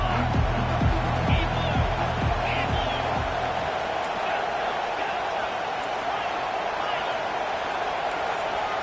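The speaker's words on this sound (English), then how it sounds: "This crowd knows when to bring it." A football stadium crowd roars steadily in the distance, with a commentator talking over the first part before the broad crowd noise continues on its own.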